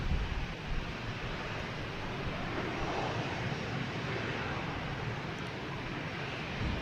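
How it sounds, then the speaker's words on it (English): A JetBlue jet airliner takes off at Boston Logan Airport, heading for Detroit, with a steady, broad engine roar that holds evenly throughout and sounds fairly distant, like a wash of noise. "We have a JetBlue taking off heading to Detroit."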